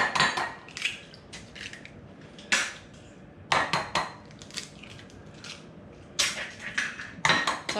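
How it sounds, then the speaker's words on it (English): Eggs cracked into a bowl, making clusters of sharp, close taps and cracks against the rim, with quieter gaps between them and no voices. "It's always a good idea to crack your eggs into a bowl first to make sure you don't get any shell."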